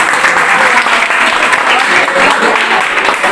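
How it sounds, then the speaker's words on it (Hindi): An audience applauds a student at a Teachers' Day speech event, with loud, dense clapping that holds steady from start to finish. "ताली बजाओ इस लड़के के लिए।"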